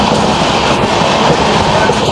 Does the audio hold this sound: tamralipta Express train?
yes